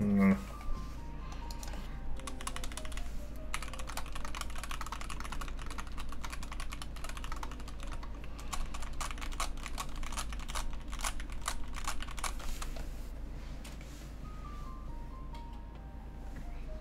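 Mechanical keyboard switches typed on close by, a steady stream of quick clacky keystrokes with bursts and pauses over a low constant hum.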